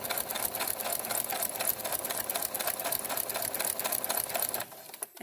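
A sewing machine fitted with a walking foot quilts a table runner, its needle chattering in a fast steady run up close before stopping abruptly near the end.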